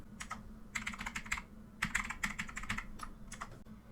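Fingers tap out a quick burst of keystrokes on a computer keyboard while entering a folder path in Windows 11 File Explorer, crisp close clicks coming in short clusters with brief pauses between them.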